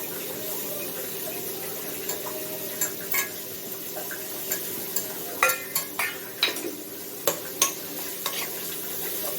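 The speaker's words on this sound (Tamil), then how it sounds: "நெய் ஊற்றிட்டு இந்த கேரட் வச்சுருக்கிறோம் பாருங்கள், இதை நம்ம நல்லா வதக்கி எடுத்துக்கணும்." Carrots sautéed in ghee in a pan, stirred with a spoon: a steady low sizzle with scattered scraping clinks of utensil against metal, close and moderately loud, no voices.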